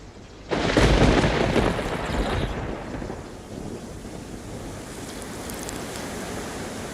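Thunder rumbling in the survival video game DayZ: a sudden loud, broad roar that swells and then slowly fades into a steady windy wash, with no voices.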